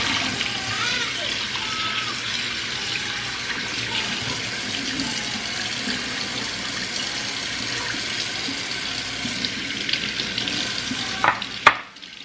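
Running tap water splashes steadily into a sink as raw meat is rinsed by hand, a continuous close hiss with soft sloshing, ending in a brief clatter.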